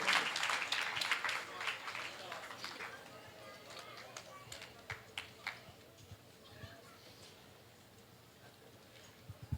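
Church congregation clapping for the Lord at an evangelistic service, a loud burst of dense clapping at the start that thins into scattered claps and fades over several seconds, with voices murmuring beneath.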